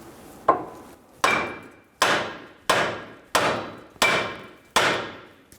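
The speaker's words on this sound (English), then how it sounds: "Using a hammer, we're going to hit on the knuckle where the tie rod is sitting in." Seven sharp hammer blows on the steering knuckle of a 2011-2014 Hyundai Sonata, spaced about two-thirds of a second apart, each ringing briefly before the next, loud and close with no talk.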